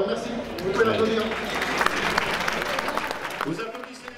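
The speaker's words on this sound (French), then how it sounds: "Vous pouvez l'applaudir." An audience at a livestock show in Auvergne gives a breeder a burst of applause, steady clapping of moderate loudness over about four seconds, mixed with voices in the crowd.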